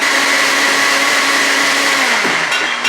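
A kitchen blender running steadily, a loud continuous motor whine that holds a constant pitch and shifts briefly near the end, with no voices.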